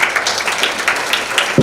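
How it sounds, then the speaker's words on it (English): Audience applause for Alice at a municipal gathering: steady, moderately loud clapping from a group of people, with no talking. "Please clap for her."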